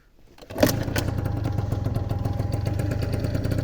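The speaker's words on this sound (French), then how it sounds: "Tac, démarrage au kick." A Peugeot Trekker scooter is kick-started: a sharp catch as the engine fires, then a steady, close buzzing idle that runs evenly to the end.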